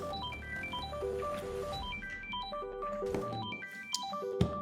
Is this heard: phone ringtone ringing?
yes